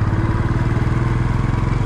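Motorcycles pull up on a mountain road between Manali and Jispa, a close, loud engine idle with a steady low pulsing throb throughout.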